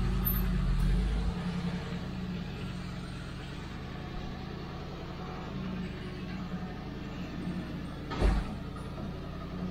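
A Triumph Stag with sticky brakes is driven slowly out of a garage, its engine a steady low rumble throughout, with a brief louder burst of noise near the end.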